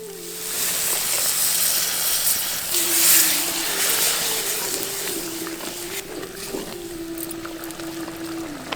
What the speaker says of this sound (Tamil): மசாலா இப்போ நல்லா கொதிக்க ஆரம்பிச்சிருச்சு